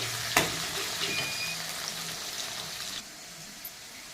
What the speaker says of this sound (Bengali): এখন আমি এখানে দিয়ে দেবো পেঁয়াজ কুচি।